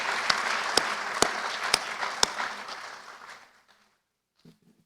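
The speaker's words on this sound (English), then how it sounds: "if we could give them a round of applause" A modest audience at a college president's spring welcome-back event applauds, with a few sharp, close claps standing out above the general patter, then the clapping fades out into near silence.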